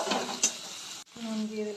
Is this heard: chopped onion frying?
yes